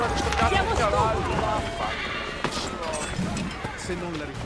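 Horse neighing and whinnying with clip-clop hooves in the Assassin's Creed 3 video game, rising over busy game ambience and other voices, loudest in the first second and a half.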